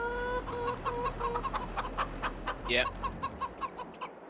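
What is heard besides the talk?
chickens clucking in video game Farming Simulator 22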